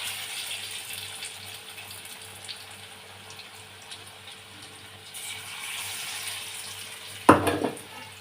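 Chicken pakora fries in hot oil with a quiet, steady sizzle. Near the end there is a brief louder clatter, like stirring or pieces going into the pan, and nobody speaks.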